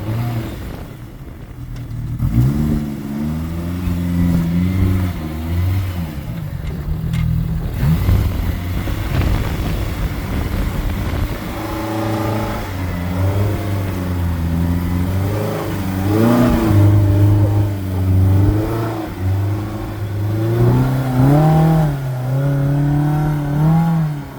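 An off-road machine drives through the sand at Sand Hollow, its engine loud and close, revving up and down in repeated surges over a steady drone for the whole stretch, with no voices.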